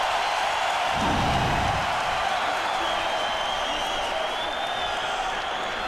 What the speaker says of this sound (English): Listen to the crowd here at the Bell Center.